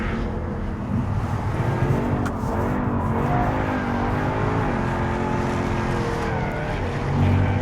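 A Jaguar F-type R coupe is driven hard on a race track, its engine roaring loud and steady under load, with the pitch climbing and shifting through the gears.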